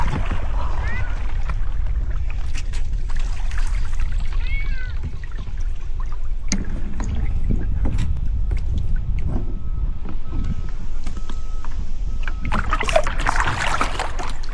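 A kayak moving across open water with a cat aboard: constant water sloshing and outdoor rumble, a few faint meows early on, paddle knocks and splashes, and people talking intermittently in the background.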